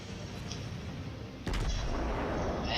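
An Iowa-class battleship fires its main guns in World of Warships: a sudden heavy boom partway through lifts the level over a steady low battle rumble, then a long rolling tail with no talk.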